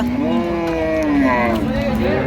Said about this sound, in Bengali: এই ষাঁড় বাচ্চা